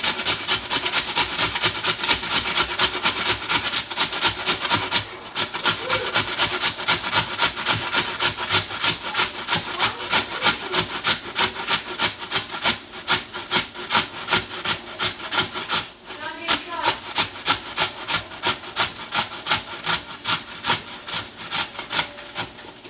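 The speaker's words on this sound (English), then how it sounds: "I just take a potato and a grater." A raw potato is grated on a metal grater for hash browns, a rapid, regular rasping stroke repeated many times, close and loud, with a couple of brief pauses.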